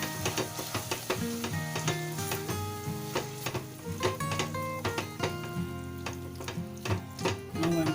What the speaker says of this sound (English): So I'm going to mix it well.